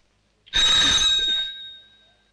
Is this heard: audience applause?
no